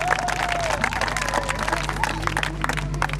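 A church congregation at a French-language deliverance service applauds and cheers for Jesus, steady crowd clapping and voices under a continuous hum, with speech mixed in throughout.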